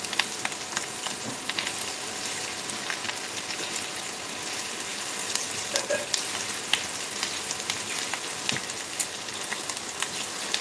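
Onions and capsicum fry in a pan with a steady, close crackling sizzle, fine popping spatters scattered throughout and no voices.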